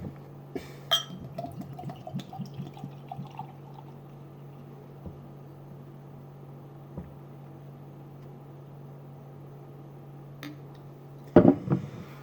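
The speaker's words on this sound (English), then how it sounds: "It's pretty much a picture-perfect pour, carbonation level." Brew Gentlemen Lou (2018 Blend) beer poured into a glass indoors, a soft continuous liquid pour with a few faint clinks and drips, quiet throughout, ending with a brief louder knock near the end.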